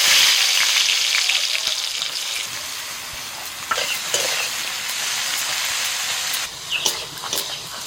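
Eggplant slices coated in salt and turmeric go into hot oil, giving a loud, dense, close hiss that settles into steady frying, with a few stirring knocks near the end and no talk.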